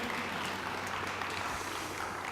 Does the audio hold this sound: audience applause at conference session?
yes